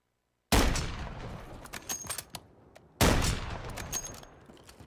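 Gunfire in a shooter video game: two sharp, loud bursts of shots, each trailing into rattling echoes and scattered follow-up cracks, with no talk over them.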